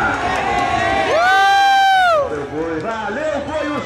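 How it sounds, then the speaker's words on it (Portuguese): Crowd of supporters cheering and whooping at a Brazilian sporting event, loud and close, with a sharp rising shout in the middle; a commentator talks over the noise. "foi os aplausos da torcida"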